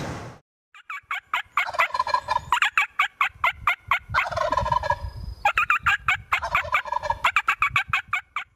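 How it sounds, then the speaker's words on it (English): Wild turkeys gobble outdoors in loud, rattling bursts, several overlapping calls with rapid pulsed chatter coming close together and filling most of the stretch. "some birds that are gobbling at us"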